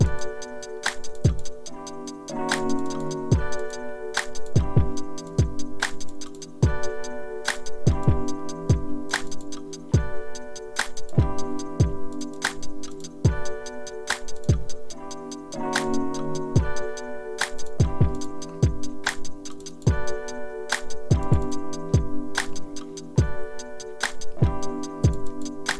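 A drum pattern programmed on a Native Instruments Maschine loops steadily, crisp repeating hits over a pitched melodic backing, close and loud with no talking.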